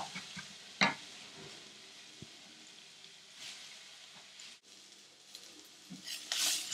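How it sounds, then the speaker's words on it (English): Onions and ground paste frying in a pan for a mutton masala, a quiet steady sizzle with occasional scrapes and taps of a utensil stirring, faint and close. "I'm just going to fry this until they are nice and light brown."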